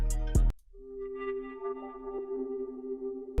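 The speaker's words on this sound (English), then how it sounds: "Second synthesizer that I picked was from the same one-shot kit." A second synthesizer patch from a one-shot kit in FL Studio, playing a sustained, texture-like tone with a steady held pitch, heard alone after a brief loud hit at the start.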